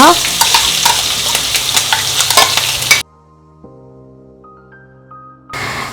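Crushed masala hits hot oil with mustard seeds in a pan for ammini kozhukatta, giving a loud, crackling sizzle with sharp pops for about three seconds, then a sudden drop to soft tonal music before the frying returns.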